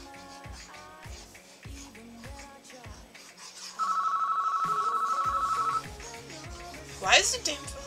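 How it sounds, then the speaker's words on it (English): A telephone rings indoors with a steady, pulsing electronic trill lasting about two seconds, heard beneath and between people talking, followed by a brief high chime. "Why is the damn phone keep ringing?"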